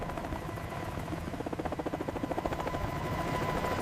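A helicopter's main rotor spins, a steady loud thrumming with rhythmic blade beats pulsing throughout, alone and close.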